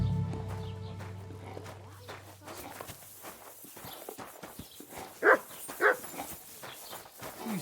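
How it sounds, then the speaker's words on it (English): In the medieval video game Kingdom Come Deliverance II, a dog gives two sharp, loud barks in quick succession, mixed with footsteps and hoof clops. "You silly doggy."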